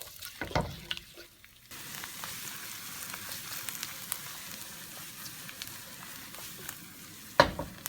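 Garlic frying in a pan on the stove while being stirred, a steady soft sizzle throughout with occasional scrapes and clicks from the utensil, fairly quiet and close, with a sharper knock near the end.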